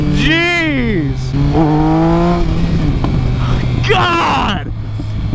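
A Triumph Speed Triple 1050 motorcycle's inline-three engine gets a sharp rev near the start, holds a raised drone, then drops to idle before one more quick blip. It sounds loud and close the whole time.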